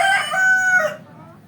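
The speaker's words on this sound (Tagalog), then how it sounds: "Ang daming mga manok dito ni Bayaw." A rooster lets out a single loud, near crow that rings for about a second and then fades. It comes from a yard crowded with chickens in Tala, and no voices are heard.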